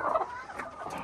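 Chickens clucking close by inside a mobile pasture egg-laying coop in a short burst of soft, throaty calls, with no voices.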